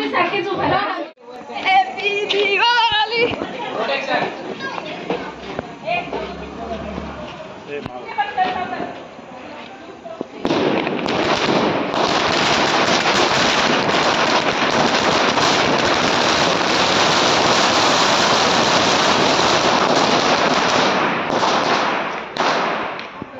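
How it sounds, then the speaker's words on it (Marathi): Crowd chatter and scattered sharp pops come first, then a long, dense crackling barrage of firecrackers goes off continuously, loud and close, during a Bhai Dooj family celebration. "आता तुम्हाला दाखवतो फटाके फोडता मजा"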